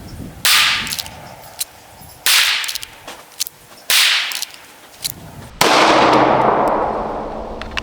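Four loud, sharp pistol shots from a Wilson SFX9 during a speed shooting drill, each cracking out and ringing off, spaced about a second and a half apart with a pause before the last.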